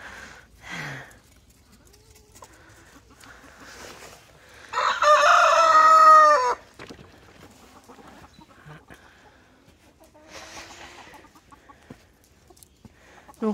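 A rooster crows loudly once, and Bourbonnais hens cluck intermittently around it in a winter poultry run.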